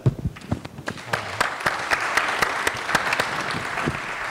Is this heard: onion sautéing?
no